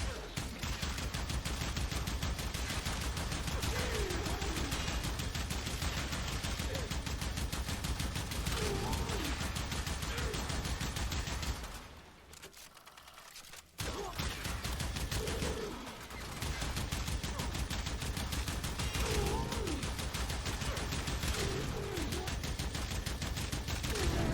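Sancti Tigris shotgun fired in the video game Warframe: dense, loud, continuous rounds of blasts and impact noise that briefly drop out near the middle, then resume at full intensity.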